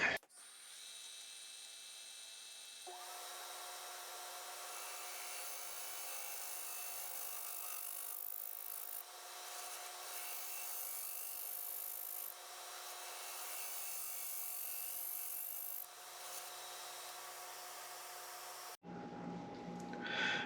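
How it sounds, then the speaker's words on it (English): A mesquite wood ring spinning on a lathe is turned flat, giving a continuous high scraping whir over a steady motor tone, with a brief break in the cutting just before the end. "So we got them on the lathe. Let's go ahead and turn this guy down flat."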